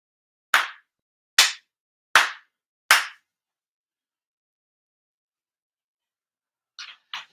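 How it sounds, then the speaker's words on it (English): Four sharp, evenly spaced ritual hand claps ring out alone at a Shinto-style prayer service, each crisp and close, followed by a long silence and two fainter short sounds near the end. "4 sincere claps."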